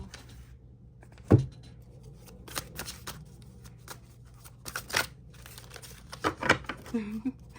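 Tarot cards are shuffled and drawn from a deck, giving soft papery riffles and crisp flicks with a few sharper snaps, close up and intermittent, with brief talk in between.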